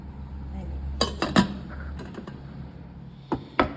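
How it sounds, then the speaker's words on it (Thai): Metal pot lid and cookware clattering as a pot of pork ribs is covered for boiling on medium heat, a few sharp clinks and knocks in quick succession, close and fairly faint. "เสร็จแล้วเราก็ ปิดฝา ต้มไปได้เลยด้วยไฟกลางนะคะ"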